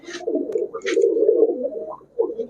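Several low, throaty coos from pearl-eyed pigeons roll on close by, swelling and fading in bursts with short bright flutters between them.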